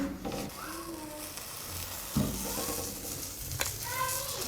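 A paratha sizzles on a hot griddle as it is turned and moved, a soft continuous frying hiss with scraping shifts, close and fairly quiet, and no one speaking.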